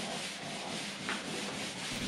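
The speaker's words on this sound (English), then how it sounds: "I grabbed my 180 grit sanding paper and my random orbital sander and just sand the surface smooth" A random orbital sander with 180-grit paper whirs steadily against a wooden dresser, a constant loud grinding hum with a brief scuffing change partway through.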